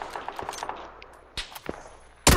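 Gunfire in PUBG: a rapid series of faint, distant shots opens, scattered single cracks follow, and one loud, close blast lands at the very end.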